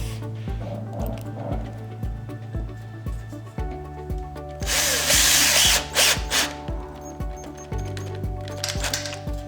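A power drill drives screws in and out of Ricky display shelving during assembly, its motor whirring in short repeated rhythmic bursts with pulsing tones, loud and close, with one longer, harsher grinding stretch midway.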